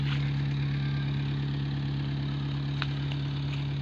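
John Deere 50 tractor engine idling at a temple fair, a steady low thumping drone close by, with faint background noise and a few light clicks.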